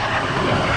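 Steady propeller airplane engine drone from a flight combat video game, a continuous broadband roar holding constant for under a second with no talk over it.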